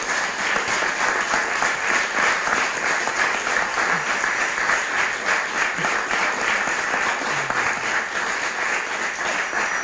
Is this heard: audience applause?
yes